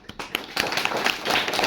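Scattered clapping from a school audience at a Mother Language Day event, starting as a few separate claps and building into brisk, fairly close applause.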